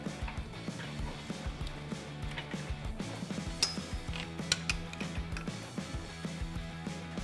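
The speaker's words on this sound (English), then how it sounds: "We use a 15mm socket to tighten them all up" A ratchet with a 15mm socket clicks away at drive shaft bolts on a Jeep Wrangler JL, with quiet, irregular metallic clicks and clinks of tool work close by and no talking.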